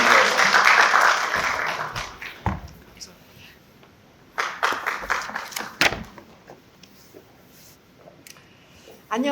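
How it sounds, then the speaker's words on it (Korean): Applause from a church education lecture audience rises at the start and fades, followed by scattered claps and brief bursts of clapping later. "박수를 모시겠습니다"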